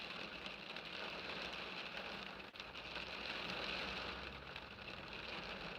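Steady rain falls outside in a continuous, even hiss of drops on surfaces, with a faint low rumble underneath; quiet and unbroken, with no voices.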